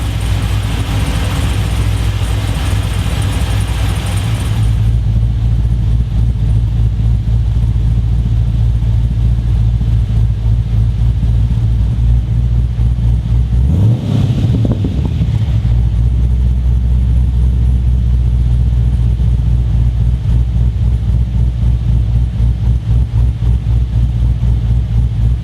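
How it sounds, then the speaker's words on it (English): Turbocharged LS V8 engine fitted with a VCM camshaft, heard close and loud: a steady, lumpy idle that swells into a single sharp rev around the middle, then settles back to a rough idle. "Let's have a listen."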